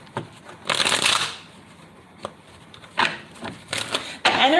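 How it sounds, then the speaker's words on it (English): Tarot cards riffle and slap together in several distinct shuffling bursts, crisp and close, separated by brief pauses, with no voices over them. "I'm going to shuffle 5 times here."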